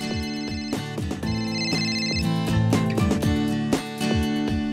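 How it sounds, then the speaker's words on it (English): A phone rings loudly and alone, set off by a GoKey keychain, its ringtone repeating in a steady rhythmic pattern of bright tonal notes. "And when you can't find your phone, your GoKey will make it ring."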